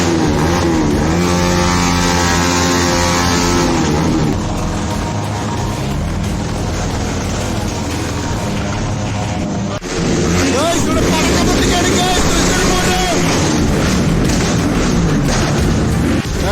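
An engine at a bike show revs hard and loud up close, a sustained roaring drone that swells and dips with one sharp break midway, with voices faintly mixed in.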